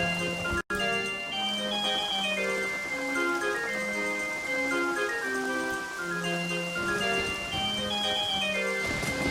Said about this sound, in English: Dude, I can make it rain inside.